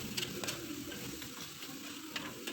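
Palm sugar, salt and MSG stir-fried in a pan, giving a soft steady sizzle with faint scraping of the spatula, quiet and continuous with no talk.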